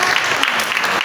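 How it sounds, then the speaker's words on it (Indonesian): Dense, steady applause from a church congregation during a worship service, continuous broadband clapping throughout with no clear gaps. "Berikan tepuk tangan."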